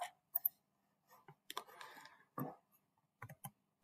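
Computer mouse clicking at a desk during software work, faint, scattered clicks in an irregular rhythm, some in quick pairs.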